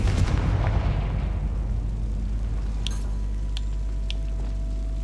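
A Confringo spell blast in Hogwarts Legacy lands as one deep, booming explosion at the start and rolls off into a low rumble. A couple of sharp crackles follow, with a faint tonal hum underneath.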